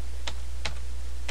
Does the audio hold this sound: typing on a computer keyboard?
yes